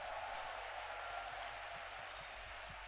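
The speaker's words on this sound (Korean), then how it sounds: "경상도 전라도에서 오신 장병들과 군인 가족들을 위해서 우리 박수로 환영하겠습니다" Steady applause from an audience at an evening Christian soldiers' revival gathering, welcoming soldiers and military families; dense, even clapping that fills the hall without a break.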